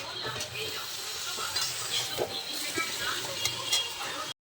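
A spoon stirs cabbage curry with dried fish in a cooking pot, producing soft scraping and clinking over a steady low sizzle, with a few sharper metallic taps scattered throughout.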